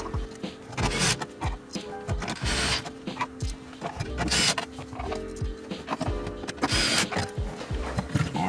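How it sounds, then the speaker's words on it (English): A powered screwdriver whirs in short bursts as screws are driven back into a Toyota Tundra dash panel, with a steady mechanical buzz, clicks and rattles close by. "And then we'll go ahead and put our screws back in."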